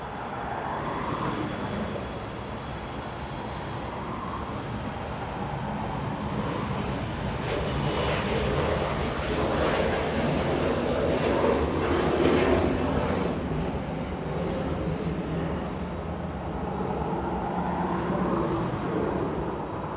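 A Boeing 747 at Los Angeles International Airport begins taxiing, a broad, moderately distant engine rumble that swells gently and falls back across the stretch amid airport background noise.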